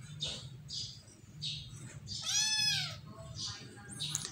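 A cat meows several times, one long drawn-out cry in the middle, with birds chirping nearby against a quiet background.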